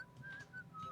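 A person whistles a short melodic tune in a few clear, sustained notes, fairly close and alone, with a faint low background hum underneath.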